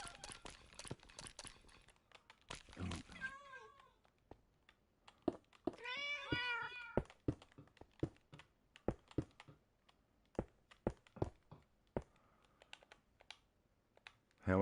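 Minecraft cats meow in short, close calls, one of them a longer warbling cry. Rapid keyboard typing and mouse clicks run nearly the whole time.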